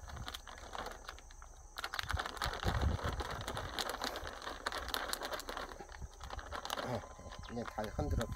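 Water sloshing and rattling inside a sealed zipper bag as it is shaken steadily by hand while mixing a garlic seed disinfectant solution, close and continuous for several seconds.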